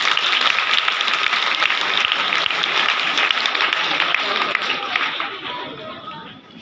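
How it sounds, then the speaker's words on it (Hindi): Children at a girls' awareness session on good touch and bad touch clap together, loud and continuous at first, with some chatter and movement mixed in, then fading slightly toward the end. "ताली बजाओ"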